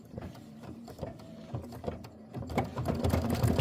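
An embroidery machine stitches a quilt block through thick fabric, a fast, steady mechanical chatter that grows louder and busier in the last second.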